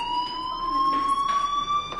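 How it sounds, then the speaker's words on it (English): A fire alarm sounds indoors as a continuous high electronic tone that holds steady at moderate loudness, with faint background noise and no talking. "do you hear that fire alarm?"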